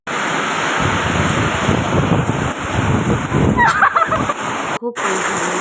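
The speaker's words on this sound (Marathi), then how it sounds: "बघा वादळ कसं वाजत आहे." Strong storm wind roaring past a house during heavy rain, a loud continuous gusting rush buffeting close to the microphone, with brief clattering bursts near the end before a sudden cutoff.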